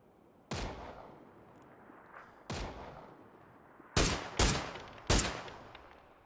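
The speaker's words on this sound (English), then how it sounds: "Excellent long-range shots with the SLR." Five sharp rifle shots from an SLR fired at long range in the battle royale game PUBG during a professional esports scrim, spaced irregularly with the last three closer together, each a loud crack with a decaying tail, no voices.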